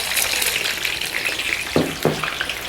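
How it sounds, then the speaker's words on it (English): Vegetables deep frying in ghee heated to 190 °C, a dense, loud crackling sizzle throughout, with two short scraping stirs near the end. "the ghee temperature is 190 degrees Celsius, that's 375 degrees Fahrenheit, which is the ideal temperature for deep frying our vegetables"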